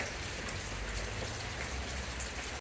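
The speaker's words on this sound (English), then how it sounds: "Literally hasn't stopped raining." Steady, dense rain falls continuously in Rio Grande do Sul during a prolonged downpour, a constant even hiss of drops on surfaces with no voices.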